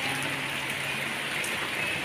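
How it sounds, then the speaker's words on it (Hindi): Steady rain falls outdoors, a dense, even hiss of drops with no pauses, close and moderately loud throughout. "देखिए दोस्तों बारिश शुरू हो गई है"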